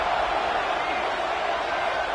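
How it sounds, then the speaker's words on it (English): Football stadium crowd produces a broad, steady roar that fills the space at even loudness throughout, while a voice talks over it. "This crowd ready to make its presence known."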